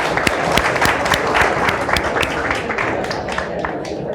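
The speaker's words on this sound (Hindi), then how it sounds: "फिर से ताली बजाई जा सकती है।" Classroom students clap again in a brisk round of applause, a steady crowd of close, crisp handclaps with some louder individual claps, lasting throughout with slight voices underneath.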